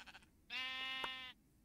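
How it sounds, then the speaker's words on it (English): A single sheep in the Minecraft video game lets out one clear, drawn-out bleat lasting under a second, standing alone against near-silence. "That wolf is going after that sheep."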